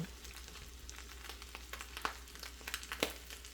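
Onions frying in a small pan, giving a soft steady sizzle with scattered crackles and pops. It is quiet and close, with no talking.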